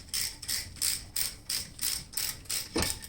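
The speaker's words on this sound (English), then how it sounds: "simultaneously turn the wrench or a socket and a ratchet" A socket and ratchet turning a brake caliper bolt on a Toyota Sienna, giving about eight evenly spaced ratcheting clicks close up, ending with a duller knock, with no talk.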